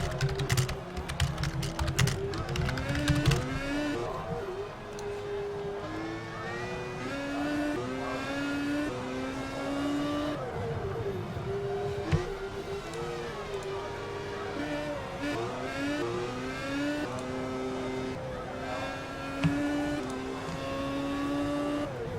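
Race cars in a sim racing game practice session at a Brazil circuit with a drying track, engines revving and shifting through gears continuously, several cars audible at once at steady moderate loudness.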